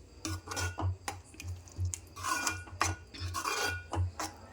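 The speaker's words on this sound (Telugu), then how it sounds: "స్టవ్ చిన్న పెట్టేసి కలుపుకుంటే పెరుగు మంచిగా కలిసిపోతుంది" Yogurt being stirred into a curry in a pan over a low flame, with repeated scraping and clinking of a spoon against the pan in an irregular rhythm, close and moderately loud over a steady low hum.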